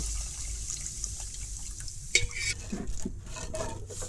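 Caramel and about a litre of milk stirred in a pan for milk pudding, a soft liquid swishing with a sharp utensil clink against the pan partway through.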